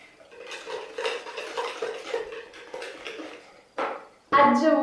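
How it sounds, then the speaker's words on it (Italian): A spoon scrapes and clinks against a bowl while cake batter made with whole wheat flour is mixed with lemon zest, in quick irregular strokes at close range, followed by a couple of louder knocks. "aggiungiamo la buccia del limone, la scorza del limone, ok, e amalgamiamo"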